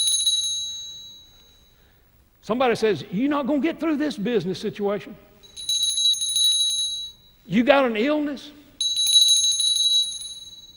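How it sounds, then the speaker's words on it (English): A borrowed large Baptist church bell is struck in a sermon setting, clear ringing tones sounding alone between stretches of a man preaching, returning in separate bursts. "I dare you get your bell and ring it."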